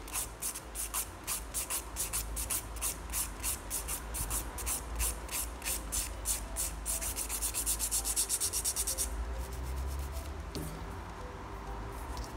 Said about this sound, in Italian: Vedete che di qua posso limare ancora un pochino.